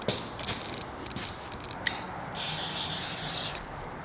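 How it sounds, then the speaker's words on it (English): WD-40 sprayed onto a chopper frame built around a Sportster motor, heard as short hissing bursts followed by a longer steady spray near the end, close and moderately loud. "WD-40, best cleaner ever."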